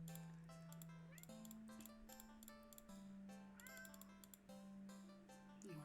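A video-game cat meows in a series of repeated, tonal cries over a steady musical backdrop, with clicky ticking sounds scattered between them, all at a low overall level.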